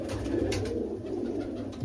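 Pigeons kept by a breeder give a soft, continuous cooing murmur, faint and steady throughout.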